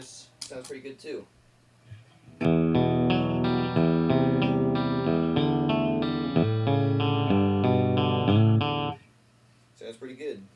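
A clean electric guitar plays a series of chords and single notes through a Randall RG100 amplifier without reverb or chorus, preceded and followed by brief speech.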